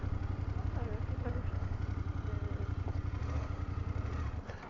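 A BMW F800GS motorcycle engine thrums in a low, steady pulse while riding, close and continuous, with people talking over it throughout and the engine easing off at the end.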